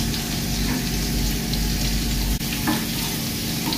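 Crushed garlic cloves fry in hot oil, giving a steady, dense sizzle close by that holds evenly throughout without any talking.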